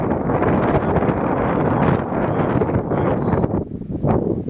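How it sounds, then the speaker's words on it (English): Strong wind from a storm in Howard County, Iowa, buffets the microphone in a loud, continuous roaring rush with gusty swells over a few seconds, and nobody speaks. "A little more wind."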